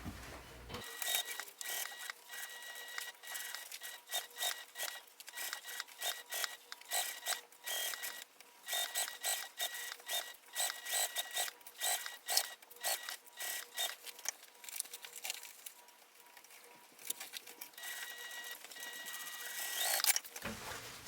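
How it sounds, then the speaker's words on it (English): A sewing machine stitches panels of a fabric train case in a long run of rapid, closely spaced mechanical bursts that carry on steadily at close range with no voices. "I will sew it the same way I sewed the last time, with these panels against the bed of my machine."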